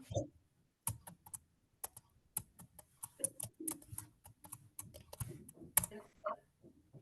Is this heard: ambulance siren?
no